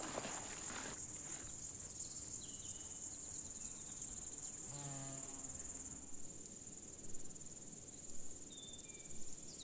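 A large marsh grasshopper chirps in a peat bog, a thin, continuous high buzzing that runs steadily beneath a quiet outdoor background, with a few faint clicks later on.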